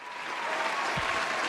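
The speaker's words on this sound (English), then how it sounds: "Let me give him a round of applause." A round of applause from a crowd, dense steady clapping that swells quickly and holds, moderately loud, with no talk over it.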